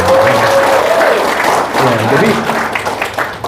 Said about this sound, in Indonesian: Jadi tepuk tangan dulu buat driver.